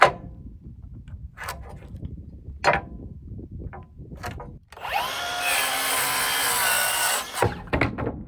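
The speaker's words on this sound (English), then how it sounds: "Let's cut these studs for that wall right there, which is an 8-foot wall." A saw cuts through a wooden wall stud for an 8-foot framed wall in one loud burst of a few seconds. Scattered knocks and handling clicks come before and after the cut.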